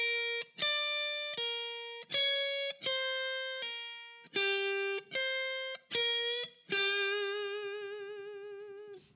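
Electric guitar with a distorted, effected tone plays the second half of a pentatonic lick: a run of separate sustained notes with small bends, ending on a long held note with wide vibrato, alone and up close.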